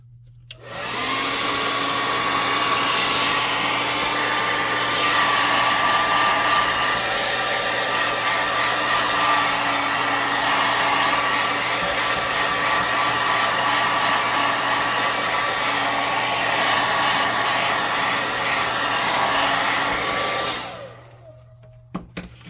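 A hair dryer runs steadily for about twenty seconds, drying freshly painted terrain scatter pieces for a tabletop game, starting and stopping abruptly, loud and close with no talk.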